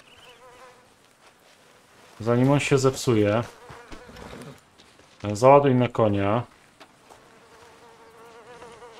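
Flies buzzing around a turkey carcass in Red Dead Redemption 2, a faint steady drone running throughout beneath two bursts of someone talking.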